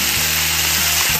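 Pork stir-fried in a wok with pickled chili, ginger, garlic and bean paste, giving a steady close sizzle with a low hum running underneath.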